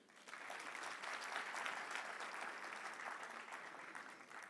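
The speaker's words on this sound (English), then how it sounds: "Please, a round of applause for him" Applause from an audience at the official launch ceremony for World Environment Day, honoring the President of Côte d'Ivoire; dense, steady clapping from a large crowd fills the space, rising quickly and holding evenly throughout.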